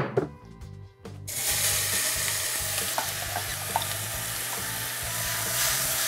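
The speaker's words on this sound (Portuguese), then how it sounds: "Vou pegar um azeitinho e vou jogar aqui na panela pra dar aquela refogada gostosa" Olive oil sizzles hard in a pan as chicken feet fry for a strogonoff. A short stir and clatter comes first, then a dense, loud, steady crackle runs to the end.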